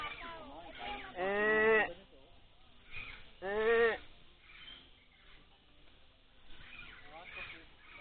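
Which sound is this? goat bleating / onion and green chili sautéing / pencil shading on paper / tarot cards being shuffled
goat bleating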